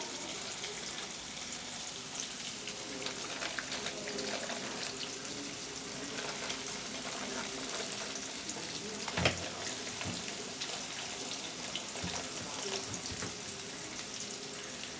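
Shrimp fry in a pan with a steady, soft sizzle running throughout, faint and even, with one sharp clink partway and no talk.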